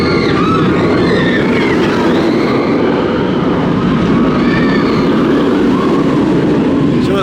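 The Nemesis Reborn roller coaster train at Alton Towers rumbles past steadily and loudly, its wheels roaring along the track while faint screams of riders rise above the noise.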